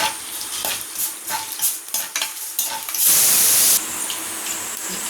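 Mustard seeds and fenugreek crackle in hot oil as a spoon stirs and scrapes the pan in a Coimbatore-style rice and dal tempering, with a loud hissing sizzle surging near the end and no talk.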